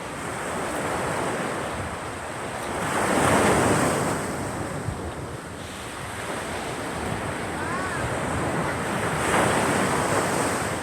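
Strong wind roars steadily against the microphone while ocean waves surge and break, swelling louder a couple of times with no voices.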